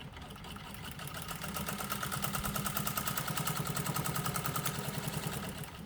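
A Singer 15 sewing machine stitches through 1.2 mm leather, a steady fast mechanical chatter that builds up and runs evenly at close range, with no voices.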